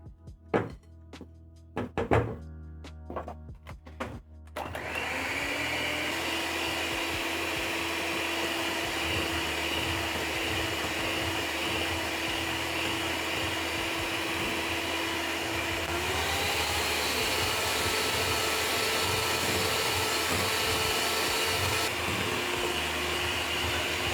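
Electric mixer whipping eggs at high speed for cake batter: a few knocks and clatters, then a loud steady motor whir that holds a constant drone and rises slightly in pitch partway through.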